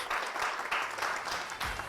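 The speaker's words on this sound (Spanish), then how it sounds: "Le damos un aplauso al Señor, hermanos, rápidamente." Church congregation applauding together for the Lord at the close of a Spanish-language sermon, a steady wash of clapping at moderate level lasting the whole stretch without voices over it.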